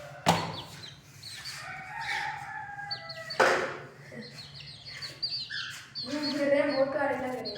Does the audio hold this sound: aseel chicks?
yes